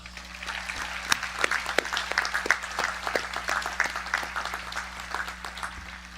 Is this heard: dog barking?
no